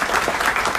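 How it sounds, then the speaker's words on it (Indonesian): Church congregation applauding together during a sermon at Care City Church in Jakarta, a steady, dense burst of clapping that fills the whole short moment. "Tepuk tangan dong saudara."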